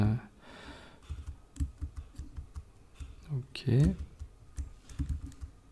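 Rapid clicking of computer keys comes in short bursts, with a voice speaking briefly in between.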